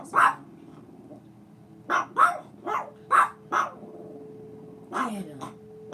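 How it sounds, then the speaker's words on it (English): Dogs bark repeatedly nearby, a series of loud separate barks in bursts with short pauses between them. "Sorry about the dogs."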